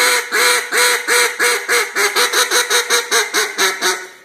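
A duck call blows a rapid series of loud, raspy hard hen quacks as a comeback call, starting with longer notes and speeding up into quicker, choppier ones.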